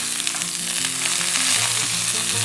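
Peppered steak sears in a hot pan for rosemary butter steak, a loud, continuous crackling sizzle with a faint tonal hum underneath and no speech.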